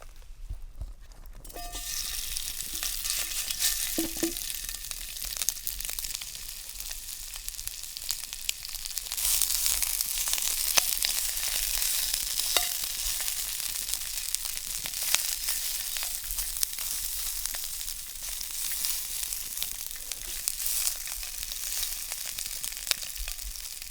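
Sausage sizzles and fries steadily on a campfire, a continuous crackling hiss that swells louder partway through, with occasional faint clinks and stirring sounds and no talking.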